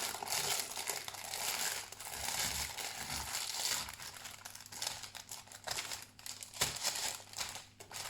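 Adhesive tape being handled while boxes are repacked, giving loud, continuous crinkling and crushing with irregular bursts and a few sharp crackles, close up and with no voice over it.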